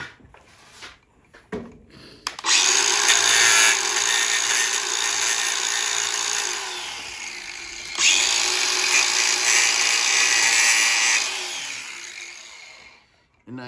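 An angle grinder fitted with a cutting disc bites into a steel magnetic coil, whining loudly and steadily in two long sustained cuts after a few short clatters.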